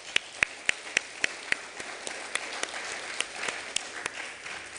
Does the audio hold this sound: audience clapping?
yes